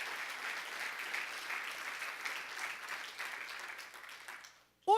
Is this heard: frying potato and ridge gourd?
no